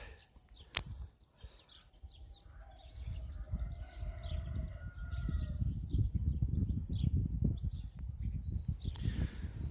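Sparrows chirp in open countryside beside a field, their small, scattered calls fairly faint and distant over a steady low rumble of wind or outdoor noise that grows louder through the second half.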